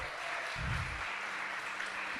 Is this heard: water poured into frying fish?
no